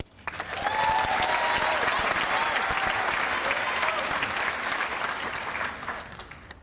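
Sustained audience applause at a school graduation ceremony, rising quickly to a dense, even clatter of many hands that holds steady before tapering off near the end.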